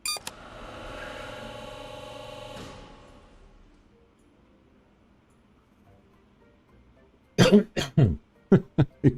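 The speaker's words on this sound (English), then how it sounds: "Sorry about that if I coughed in your ear." A single close cough opens, followed by a long fading hiss, then a run of sharp clicks and taps near the end; no talk.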